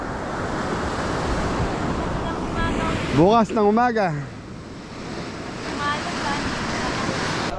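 Strong ocean surf breaks on a shore under steady wind, a continuous broadband wash, while someone speaks briefly in the middle.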